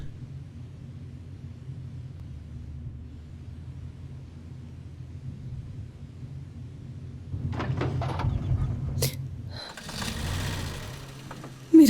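A car engine idles with a low steady hum, then rises in a louder surge as it revs, with a few sharp clicks and knocks near the end.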